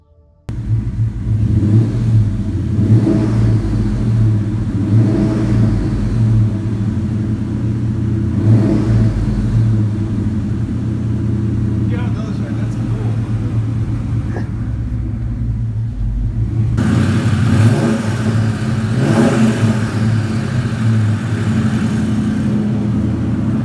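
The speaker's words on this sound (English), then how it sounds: "Long tube headers make your car sound really cool on 2 valves" A deep 4.6-liter two-valve V8 in a 2001 Ford Mustang GT with long-tube headers and open exhaust rumbles and revs repeatedly, swelling in several throttle blips over a steady idle, loud and close.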